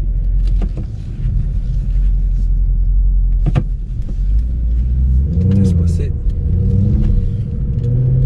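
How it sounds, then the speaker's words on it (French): Naturally aspirated 6.3 litre V8 of a Mercedes C63 Black Series gives a deep, steady rumble close by, rising into throaty revs toward the end, with someone talking over it. "le moteur, comme je vous l'ai dit, le bon V8 6 litres 3 atmosphérique"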